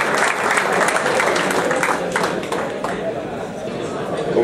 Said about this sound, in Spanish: Se va acercando fuerte el aplauso para este joven valor de Chacarita Junior.